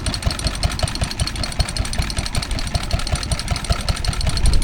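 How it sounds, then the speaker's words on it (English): Lister D stationary engine driving an Argosy water pump at a transport festival, a steady close chugging beat with rapid regular firing pulses, loud and continuous with outdoor background. "we see a Lister D driving a Argosy water pump, and it's powering the sink."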